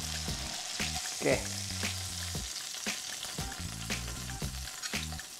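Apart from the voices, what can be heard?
beef steak sizzling in frying pan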